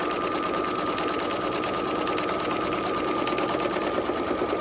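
A Brother Innov'is 1600E sewing machine stitches an appliqué, a steady, fast, loud mechanical whir with a rapid needle rhythm running continuously throughout.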